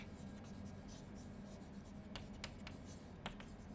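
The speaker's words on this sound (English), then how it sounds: "So let me write that down." Chalk or marker scratching on a board as math is written out, several short quiet strokes late on over a steady room hum.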